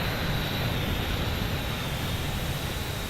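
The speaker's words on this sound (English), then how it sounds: "And we're waiting for the engines to completely spool now." Jet engines spool down on a parked airliner in Microsoft Flight Simulator 2020, a steady, broad whooshing roar with a faint high whine, holding level throughout with no voices.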